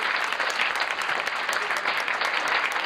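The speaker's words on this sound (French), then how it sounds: "Je voudrais encore une fois que nous applaudissions son Excellence, Monsieur le Président de la République" A wedding audience applauds the President of the Republic, dense steady clapping that stays loud and even throughout without pause.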